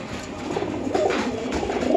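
Silver pigeons in a loft give a soft, low coo, brief and close against a faint background hum.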